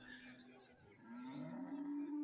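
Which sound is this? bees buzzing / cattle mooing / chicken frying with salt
cattle mooing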